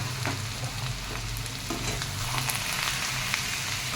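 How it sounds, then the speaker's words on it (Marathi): Mixed sprouts are stir-fried in a pan for a sprout usal with salt, giving a steady close sizzle under light stirring scrapes, with no speech. "व्यवस्थितरित्या परतून घ्यायचे सर्व कडधान्य"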